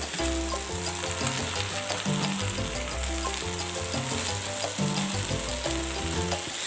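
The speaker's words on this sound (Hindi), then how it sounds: "मिक्स करेंगे तमाम सब्जियों को।" Cabbage and mixed vegetables stir-fried in a pan with ketchup for chicken chow mein, a loud, continuous sizzle with constant crackle and bubbling all the way through, no talking.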